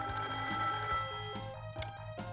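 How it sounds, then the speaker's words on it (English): An in-game telephone in the video game Sailor Moon Another Story rings in repeated short pulses, clear and fairly quiet over steady tonal game music. "Let's go answer the phone."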